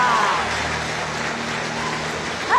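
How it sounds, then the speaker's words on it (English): A talent-show audience applauds a performer with a dense wash of steady clapping throughout the short stretch, and faint tonal sounds drift in at the start and end. "A round of applause for Bruce"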